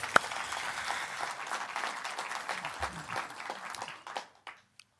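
An audience at an awards and exhibition celebration event applauds with a steady wash of clapping that lasts a few seconds and then tapers off to silence.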